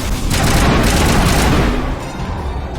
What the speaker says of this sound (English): Let's change to assault rifle.